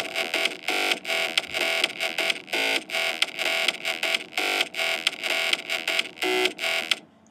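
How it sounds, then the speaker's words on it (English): Electro house bass line programmed in Ableton, with a kick drum added underneath: loud, bright synth bass pulses in a steady pumping rhythm, with short gaps between hits and no talking. "It sounds better with a kick."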